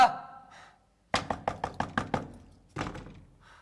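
Knuckles rap a door in a quick burst of about seven crisp, evenly spaced knocks, close and clear, followed by a brief pause and another knock, after a short tonal sound at the start.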